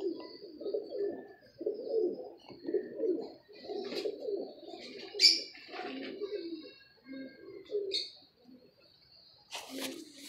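Chaudhry pigeons coo in a steady run of low, throaty calls, close and fairly loud, with a few brief higher chirps and a sharp noise near the end.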